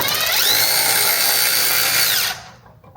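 A power driver with a T45 bit runs on a Harley-Davidson Road Glide crash bar, a loud close whine rising and holding for about two seconds before spinning down and stopping.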